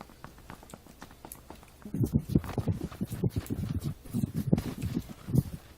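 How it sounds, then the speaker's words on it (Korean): Footsteps in the video game PUBG Battlegrounds, a run of quick, thudding steps approaching after a quiet start and continuing with an uneven rhythm, fairly close and alone. "발소리."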